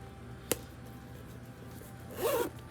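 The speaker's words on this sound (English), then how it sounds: "Top zipper works nice." A sharp click, then a short, quick zip a moment later on a faux patent leather purse, both close and fairly quiet against a soft background.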